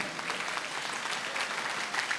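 An audience at a Hindu devotional gathering claps in a steady, even burst of applause that carries at moderate volume for the whole moment.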